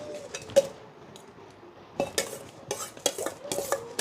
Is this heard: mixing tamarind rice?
yes